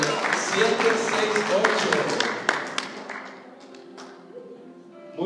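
Applause from an audience at a Mother's Day celebration raffle: a dense burst of clapping over the first seconds that thins out, under a voice speaking through a microphone.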